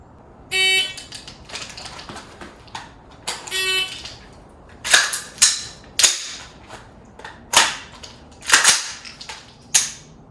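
A shot-timer beep sounds twice, followed by a rapid string of about nine sharp, close carbine gunshots separated by short, uneven pauses during a malfunction-clearing rip drill.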